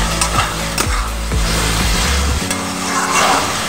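Soya chunk, potato and pointed gourd curry stirred in a sizzling pan, with repeated scraping strokes of a spatula over a continuous close fry.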